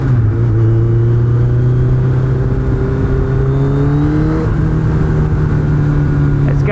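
A Suzuki Hayabusa 1300cc motorcycle engine drones loudly and steadily nearby, its pitch rising gradually as it revs up, dips briefly, then climbs again without interruption.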